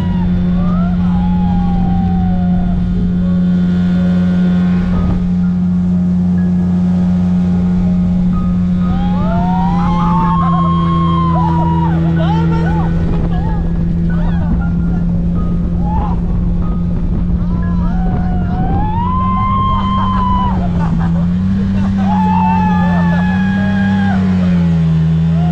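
A speedboat runs on the backwaters of Alleppey, Kerala, its engine droning loud and steady for the whole ride, with wind buffeting the microphone and rising, wavering whines as the boat speeds along.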